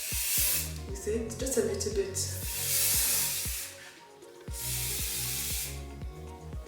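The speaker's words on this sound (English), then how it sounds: "I'm just going to spray my hair." Got2b hairspray spritzed onto styled hair during wedding glam prep: several long hissing bursts from an aerosol can, close and loud, with someone speaking briefly between sprays and soft music underneath.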